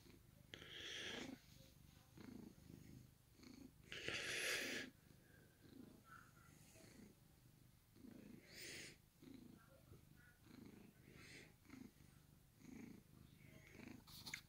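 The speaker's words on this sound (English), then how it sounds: "Little purry cat." An old cat purrs steadily throughout, a close, continuous rumble under a person's soft, affectionate talk that comes and goes over it.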